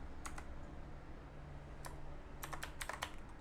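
Python code being typed on a computer keyboard: scattered quick bursts of close, crisp key clicks with short pauses between them, no talking.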